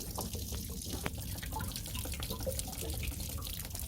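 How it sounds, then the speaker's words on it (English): Water drains from an RV hot water tank after its plug is pulled, a steady wet trickle with scattered drips falling to the floor, close and continuous with no voices. "that's the hot water tank draining itself"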